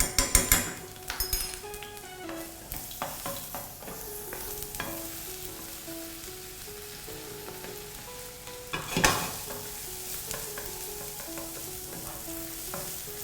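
Coriander root, garlic and pepper fry in oil that is not yet very hot, with a soft, steady sizzle broken by the scrape and clatter of a utensil stirring the pan.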